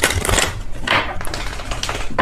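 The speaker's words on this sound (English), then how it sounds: "If I could shuffle my deck without it going everywhere" Tarot cards being shuffled in repeated crisp riffling bursts, close and moderately loud, with no talking.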